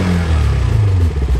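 A KTM motorcycle engine runs loud and close with a deep, rough rumble. Its pitch rises and wavers as it revs, with no talking over it.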